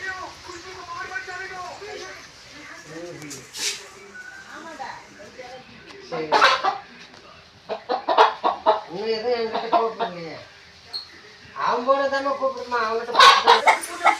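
Country hens cluck and squawk nearby in irregular bursts on farmland, mixed with people talking.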